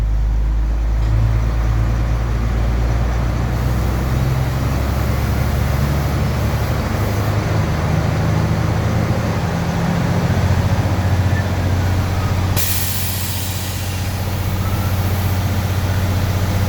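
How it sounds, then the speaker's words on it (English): A 1993 International box truck with a 210-horsepower DT466 diesel engine rumbles steadily at idle, then climbs to a higher, louder drone as the revs are raised. The engine note shifts again late in the clip. "Now I'm going to up the RPMs a little."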